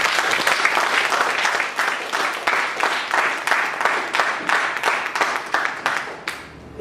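A Toastmasters club meeting audience breaks into loud, close applause, a dense steady patter of many hands that keeps going for several seconds before stopping abruptly.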